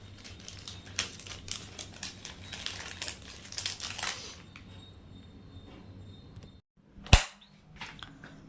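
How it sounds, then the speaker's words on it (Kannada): Items are packed up and put away, with crinkling and rustling of wrappers and plastic, sharp handling clicks and taps close by, a quieter stretch, then one sharp snap near the end. "ಇದನ್ನೆಲ್ಲ ಇವಾಗ ಪ್ಯಾಕ್ ಮಾಡಿ ಮತ್ತೆ ಅದೇ ಜಾಗದಲ್ಲಿ ಎತ್ತಿಟ್ಬಿಡ್ತೀನಿ"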